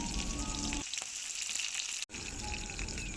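Slit green chillies, onion and capsicum fry in a spoonful of oil in a pan. A steady, close sizzle hisses throughout with a brief dip partway and a sharp momentary dropout, and there is no talk.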